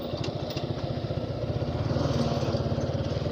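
A Suzuki Gixxer SF motorcycle idles close by at a standstill on a roadside, its steady low engine putter pulsing evenly and loudly throughout, with faint traffic beneath.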